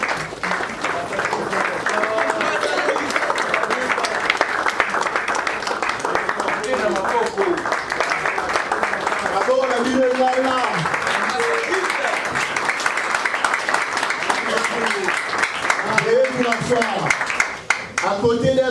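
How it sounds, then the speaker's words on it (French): An audience applauds loudly and steadily for a long stretch at an ambassador appointment ceremony, a dense wash of clapping that only tapers off at the very end. "Sous vos applaudissements."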